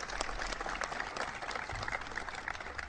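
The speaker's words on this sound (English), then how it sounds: "Please give them a big round of applause." Audience applause at a presidential event with small business owners, a dense, steady round of clapping from a sizeable crowd filling the whole stretch at moderate volume, with no talk over it.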